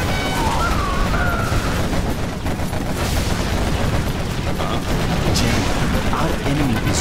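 Quad cannons fire in a Generals real-time strategy battle amid dense, continuous game noise. Rapid gunfire and booms layer over steady explosions and effects, loud throughout, with brief voice lines mixed in.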